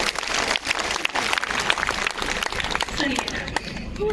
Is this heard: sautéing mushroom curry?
no